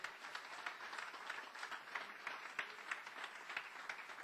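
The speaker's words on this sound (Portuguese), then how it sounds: "Só quem crê dê glória a Deus e aplauda bem forte ao nome do Senhor Jesus" Church congregation applauding loudly in praise during a Portuguese-language service, a dense steady patter of many hands clapping throughout with no voices on top.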